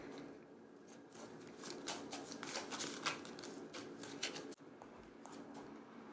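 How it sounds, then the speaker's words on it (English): Oracle cards being shuffled by hand, a run of quick crisp riffling flutters, close and quiet, with no voice. "I'm going to pull an oracle card."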